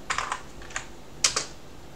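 Typing commands on a computer keyboard in a Linux terminal, heard as scattered short bursts of keystrokes, a few clusters of clicks separated by pauses, close and fairly quiet with no talking.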